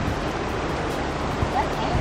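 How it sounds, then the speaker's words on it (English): Roswell Mill waterfall roars as a steady, dense rush of falling water, loud and close, with no breaks over a brief stretch. "Waterfall."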